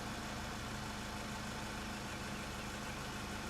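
A car engine idles in a steady, low, close hum, faint but continuous and unchanging throughout, with no talk over it.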